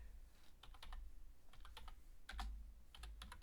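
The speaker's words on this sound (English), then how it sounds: "Let me just type in one more time here." Someone types on a computer keyboard in short sparse bursts of crisp clicks with gaps between them, faint and close over a low background hum.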